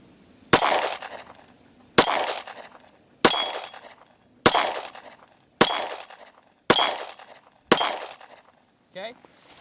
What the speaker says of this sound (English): first we're going to take some shots with the M&P Shield